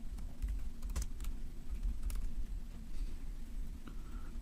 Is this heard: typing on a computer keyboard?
yes